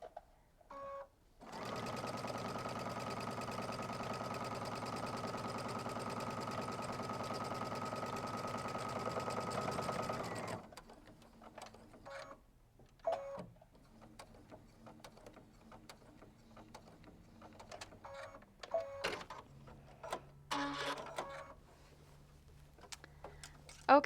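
A sewing machine stitches a quilt along drawn guide lines in one long continuous run of about nine seconds, then falls quiet apart from scattered ticks, handling clicks and a faint hum.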